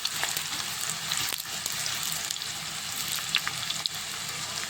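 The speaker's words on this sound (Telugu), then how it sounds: "ఎర్రగా కాల్చుకోవాలి ఉల్లిగడ్డ, మంచి గోలాలి." Onions frying in a pan for Telangana-style mutton keema biryani, a steady close sizzle with occasional stirring scrapes and small pops throughout, no voices.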